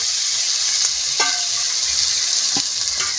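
A ground spice paste of green chili, ginger, dried chili, poppy seed and mustard hisses steadily in a hot pan after water is added for a pointed gourd curry, with a few brief clinks and scrapes of stirring.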